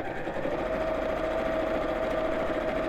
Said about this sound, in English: I'm actually sewing through 5-6 layers of fabric now